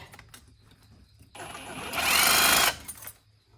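A Sawzall reciprocating saw cuts into a stubborn metal part. A loud, steady buzzing burst rises and then cuts off, with quieter handling noise before and after.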